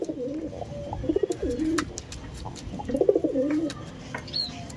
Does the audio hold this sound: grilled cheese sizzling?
no